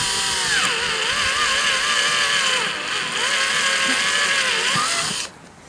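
A power drill bores a small pilot hole into wood for a deck roof, its motor whining steadily and close with slight rising and falling pitch as the bit bites, then cutting off abruptly near the end.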